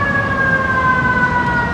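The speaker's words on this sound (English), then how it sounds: "There's some ambulance or something." Emergency siren, ambulance or fire engine, passing outside in America, heard as steady wailing tones at moderate distance over low rumbling traffic noise, with no talk.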